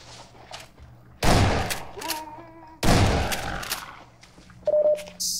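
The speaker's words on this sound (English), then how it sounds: "Now what the hell are you shooting? Who are you shooting over there?" Half-Life 2: Episode 1 gameplay brings two long bursts of loud automatic gunfire with a beeping tone between them and a short electronic blip near the end.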